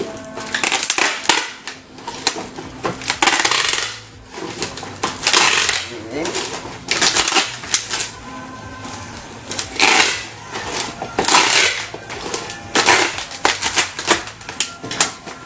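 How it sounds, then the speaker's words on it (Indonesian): Packing tape is torn and wrapped around bundled used plastic bottles being assembled into a chair and table, giving loud crackling rips and rustling bursts that repeat through the clip with brief pauses between pulls. "Setelah itu kita lakban satu kali putaran dulu aja."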